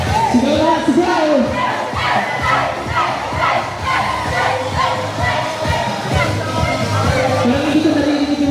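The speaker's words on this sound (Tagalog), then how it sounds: "Sigaw na, sigaw!" A large crowd at a church sportsfest shouts and cheers together, loud and close, with overlapping voices and rhythmic calls sustained throughout.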